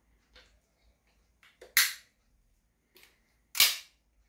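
Metal clicks and snaps from the action of a Merkel Mod.303 16x70 over-under hunting shotgun with ejectors being opened and closed, heard as several sharp, close mechanical clacks separated by quiet pauses.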